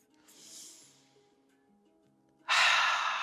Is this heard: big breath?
yes